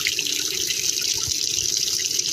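Water from a borewell gushes out in a steady, unbroken torrent that has been running day and night for a month. The rushing hiss stays close and loud throughout, with no voices.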